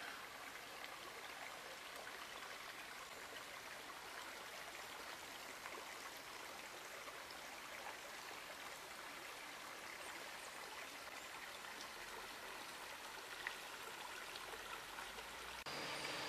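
A river flows past mossy banks near the Windsor Mills covered bridge, a steady close rush of water that runs unbroken throughout with no voices.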